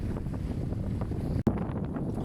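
Wind roars steadily across a sailboat under way near the Trois-Îlets, in roughly 10-15 knots, with a continuous rushing hiss and one sharp microphone buffet midway.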